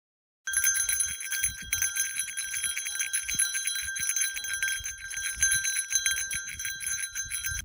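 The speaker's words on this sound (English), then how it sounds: "Apparently that sound warns bears that you're coming and scares them off, so I jingled it everywhere I went" A bear bell jingles steadily and close in the Canadian wilderness, a bright continuous metallic tinkling that starts abruptly and keeps going with uneven shaking, over faint low rustling.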